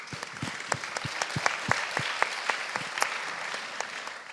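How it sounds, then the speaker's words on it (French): An audience at a panel discussion of a job forum applauds itself, many hands clapping in a clear, steady rhythm with sharp individual claps standing out in a hall. "vraiment, vous pouvez vous applaudir."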